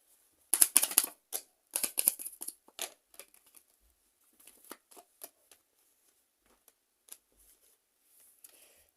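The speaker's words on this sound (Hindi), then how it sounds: "तो कुछ कार्ड्स और लेते हैं ताकि आपको कंफर्मेशन मिल जाए।" Tarot cards shuffled and drawn in a reading: bursts of crisp riffling and flicking in the first few seconds, then scattered soft slides and taps as cards are laid out, fairly close and quiet, with no talking.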